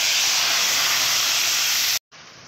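Milk mixture made with powdered milk hits a hot pan for a carrot milk dessert, giving a loud, dense, steady hiss that cuts off abruptly near the end, then carries on more softly.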